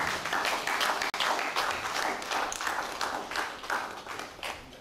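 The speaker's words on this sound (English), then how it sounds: "Welcome her with a round of applause" Audience applause welcoming a speaker at a two-day workshop, steady scattered clapping at moderate loudness, thinning out gradually near the end.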